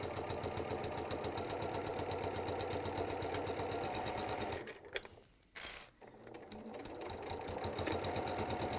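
A domestic sewing machine stitches at a standard 2.4 stitch length, its rapid motor whirr and needle clatter running steadily and close, pausing briefly midway before resuming at full speed.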